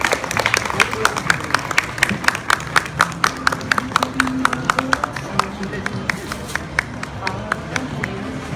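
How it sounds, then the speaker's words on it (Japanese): Audience applause after a student tutti ensemble performance at Fukushima University, steady crowd clapping filling the whole stretch with a dense patter of hands, fairly close and continuous. "皆さん、もう一度大きな拍手をお願いします。"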